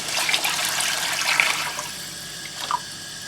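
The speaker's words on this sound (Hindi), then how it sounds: "इसमें यहाँ पर ला करके अब आप ऐड करेंगे पानी" Water is poured into a pot of frying masala for shahi mutton kofta. A steady rushing splash lasts about two seconds, then trails off into a softer hiss and bubbling.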